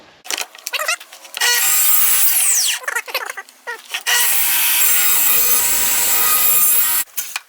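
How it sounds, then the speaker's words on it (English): A track saw cuts through plywood in two long, loud passes, each opening with a rising motor whine and then holding a harsh, steady cutting buzz, with short pauses and a clack between them. "I went ahead and took my plywood that I cut with my track saw"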